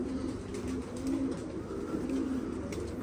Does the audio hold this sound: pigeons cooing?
yes